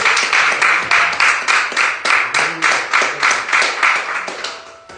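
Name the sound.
church congregation applauding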